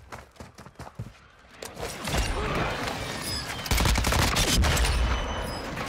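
Gunfire from the FTAC Siege in Warzone, first in scattered bursts and then a sustained, loud barrage of rapid shots that keeps building, with no talk over it.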